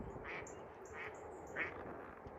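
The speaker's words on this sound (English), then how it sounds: "Quacking away." Ducks quack in several short bursts, a few seconds apart, fairly close over a steady outdoor background hiss.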